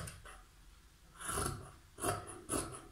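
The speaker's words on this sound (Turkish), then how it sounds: "Bunu da kesiyorum arkadaşlar." Scissors cutting fabric for a raglan-sleeve tunic, a few soft rasping snips in a quiet room, faint and close, with no talking.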